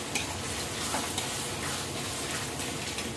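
Sliced onions frying and stirred in hot oil for a beef curry, a steady close crackling sizzle with light scraping of a spoon, no talking.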